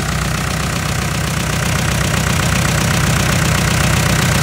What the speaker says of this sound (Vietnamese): Đây, động cơ 4 máy nổ rất là êm luôn.